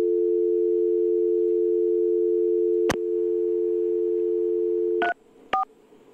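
A steady telephone dial tone holds on a phone line under test, broken by a sharp click near the three-second mark, then cut off by a couple of short DTMF keypad beeps toward the end; no talking.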